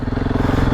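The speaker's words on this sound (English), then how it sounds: "I feel like I need second gear. I'm like way too low in the RPMs." A KTM 690 Enduro R single-cylinder engine lugs at low revs on an off-road trail, its loud, close, rapid thumping pulse chugging evenly throughout.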